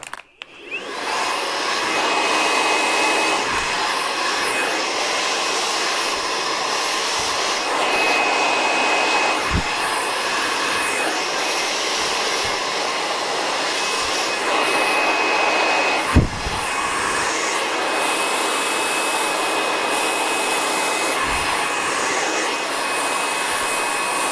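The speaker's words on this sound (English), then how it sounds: "I'm using a lot of tension and the nozzle really close to get that heat and tension, to get that control and movement from the brush." A hair dryer with its nozzle held close blows steadily while a brush works the hair under tension, a constant loud airy whoosh broken by occasional faint clicks and one sharp knock.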